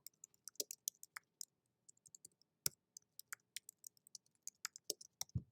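Fingers type notes on a computer keyboard, a quiet run of crisp, irregular key clicks with short pauses, close and alone.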